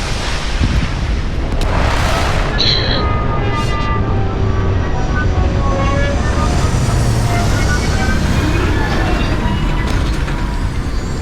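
A spaceship comes in to land in the space game Starfield, a loud, steady engine roar with rumbling thrust and whooshing, whining tones that shift and sweep throughout, continuous and close.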